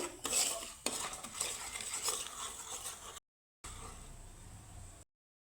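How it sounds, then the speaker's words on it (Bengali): Gram flour (besan) fries in oil while a utensil scrapes and stirs it around the pan with a steady sizzle, broken by two short silent gaps. "তো বেসনটাকে আমি সুন্দর করে তেলের সাথে ভেজে নেব"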